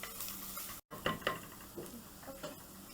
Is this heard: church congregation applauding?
no